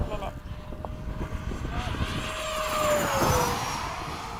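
A Freewing 90mm F-22 RC jet makes a downwind pass at sunset, its ducted-fan whine rising and sweeping past over a few seconds amid outdoor background noise and nearby voices.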